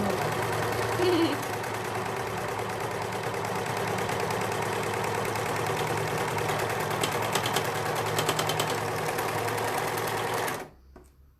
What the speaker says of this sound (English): I'm just going to stitch this together. I know I'm stitching it together with a rolled hem.